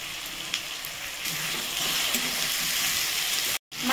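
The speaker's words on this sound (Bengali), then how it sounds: "মাছটা ভাজছি, সরষে দিয়ে ঝাল করবো।" Prawns frying in a pan with oil, a steady close hiss and crackle that holds evenly for a few seconds before a brief cut-out near the end.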